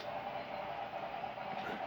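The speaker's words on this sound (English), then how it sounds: "I've got a couple trains running." HO scale model trains run on a layout with a steady whirring hum and faint clatter of wheels on track, continuous and fairly quiet.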